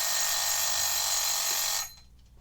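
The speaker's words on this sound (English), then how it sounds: "There's the timer." A kitchen-style timer alarm on a Commodore repair bench rings loud and continuous, a dense buzzing ring that cuts off abruptly near the end, leaving quiet room tone.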